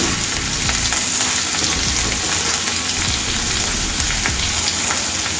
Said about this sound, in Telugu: అలాగే కొంచెం కరివేపాకు, ఇవన్నీ వేసుకొని ఒకసారి కలిపేసుకోవాలండి.